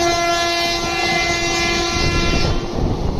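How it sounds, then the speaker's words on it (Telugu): A Tirupati–Kakinada Express train sounds a loud, sustained horn close by, over the continuous rumble and rattle of the passing coaches. The horn fades near the end while the clatter goes on. "అదే తిరుపతి కాకినాడ ఎక్స్ప్రెస్ ట్రైన్"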